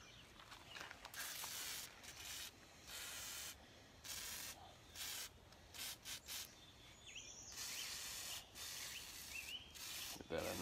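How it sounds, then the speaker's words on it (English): WD-40 lubricant sprayed from a can during yard work, heard as a run of short, close hissing bursts separated by brief pauses. "I get me some WD-40 right here."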